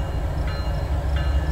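A heavy BNSF freight train with several locomotives moves off in north central Illinois, rumbling with a deep, continuous low drone and faint metallic squeals, sounding close and steady.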